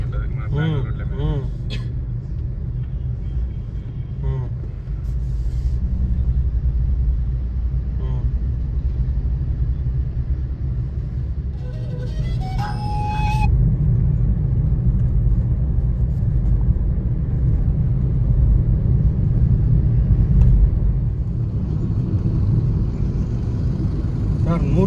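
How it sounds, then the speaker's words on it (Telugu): Road traffic near Hebbal metro in Bengaluru, heard as a low continuous rumble of engines with occasional horn beeps and passing vehicles, while people talk over it. "ఇప్పుడు ట్రాఫిక్ ఉంటుంది మన బెంగళూరులో."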